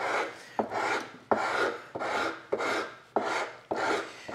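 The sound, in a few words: coarse woodworking rasp shaping wood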